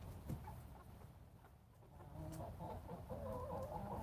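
Rooster clucking in a farm barnyard during morning chores, soft low clucks and faint bird calls over steady outdoor background noise, growing slightly fuller toward the end.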